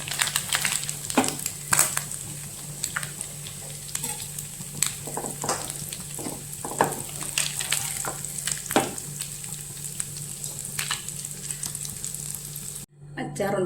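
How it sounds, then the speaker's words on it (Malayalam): Sardines frying in oil over a low flame crackle and sizzle under a steady hiss, with sharp spatters and occasional stirring knocks, ending in a brief cutoff. "മീൻ നന്നായി ഫ്രൈ ആയി."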